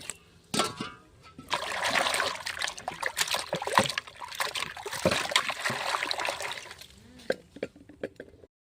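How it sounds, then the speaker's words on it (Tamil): Pieces of mutton being washed by hand in water for a mutton gravy, with steady splashing and trickling at close range and a few sharp drips and plops before and after. "இப்போ கறி நல்லா கழுவி வச்சாச்சு"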